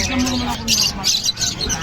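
Birds squawk and chirp at a pet bird market in Bocaue, with short calls mixed into steady market noise and people talking nearby.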